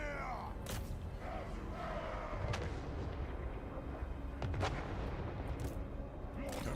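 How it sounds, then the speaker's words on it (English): Cannon artillery fire in the Warhammer 3 strategy game, sharp booming shots scattered over a dense, roaring battle din of clashing armies and crowd noise. "Cannon."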